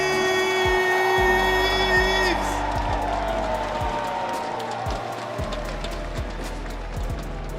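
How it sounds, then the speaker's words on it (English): Arena crowd at the Apex Legends ALGS Open grand finals cheering and applauding for a team, a steady loud roar of clapping and whoops that holds for several seconds beneath an announcer's fading tone. "Big round of applause for"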